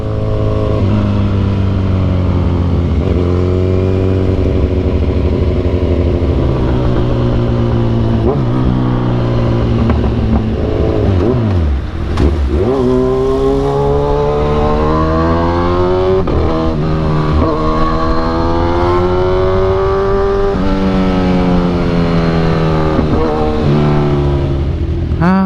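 Kawasaki Z1000 Sugomi naked motorcycle engine revving while riding, with repeated rising and falling pitch sweeps as it accelerates through gears, loud and continuous with a brief dip in the middle where it shifts down before climbing again.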